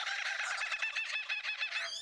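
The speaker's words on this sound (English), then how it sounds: "These are the laughing kookaburras that I was telling you about. And if you listen carefully, they kind of sound like they're laughing." Laughing kookaburras in Australia call in a rising, rhythmic chorus of cackling notes, loud and close, running steadily for a couple of seconds with no talk over it.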